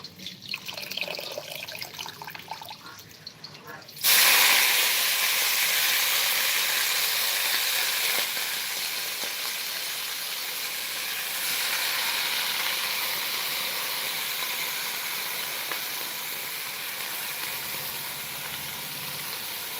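Bottle gourd leaves with chilli hit hot oil in a pan and fry with a loud, steady sizzle that goes on and on after a quieter start. No one speaks.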